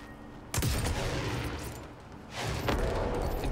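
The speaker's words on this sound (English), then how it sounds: "This is a rocket launcher?" Rocket launcher weapon in a video game fires with a sudden loud blast, followed by a rumbling roar that fades, then a second heavy burst near the end, with no talking.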